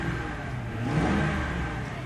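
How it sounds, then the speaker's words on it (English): A 2004 Mercury Grand Marquis engine revs up close, a mid-pitched roar swelling briefly and then easing back to a steady run. "This engine sounds great"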